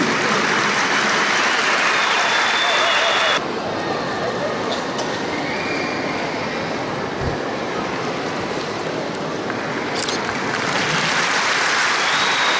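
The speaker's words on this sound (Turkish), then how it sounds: "Güçlü bir alkış istiyoruz efendim." Strong, continuous applause from a large audience at a Quran memorizers' graduation ceremony in Mersin, dense and loud across the whole stretch with a slight drop in level partway through.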